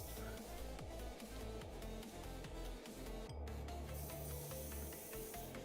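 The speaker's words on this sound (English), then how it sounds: "Let's spray a little insignia white just to see what it looks like." Insignia white paint hisses steadily from a spray bottle onto an MG RGM-79 model kit, a continuous close airy spray running under a low mechanical hum for the whole stretch.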